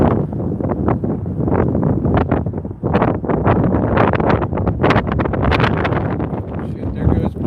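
Strong wind on a Las Vegas street at night buffets the microphone in loud, rough gusts, roaring and flapping continuously close up.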